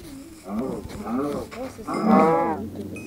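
A cow in the Minecraft video game gives several drawn-out moos in a row, the last one the loudest, with faint game sounds behind them.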